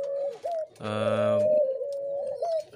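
Spotted dove and Australian dove give soft, close, hollow coos, with a longer droning coo in the middle and short calls before and after. Faint background chirps are present and no one speaks.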